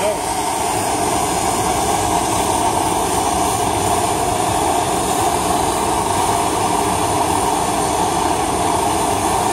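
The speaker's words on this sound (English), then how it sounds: "I use a regular hand torch, map gas. It works better than your standard propane." A MAPP gas hand torch roars in a steady, loud, unbroken rush of flame while melting 925 sterling silver to pour bullion bars.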